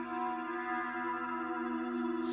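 Sustained synthesizer notes from the Zebra soft synth on a Korg Kronos held in a soft, steady chord, smooth and unchanging with a faint airy wash and heavy reverb, no rhythm or attacks.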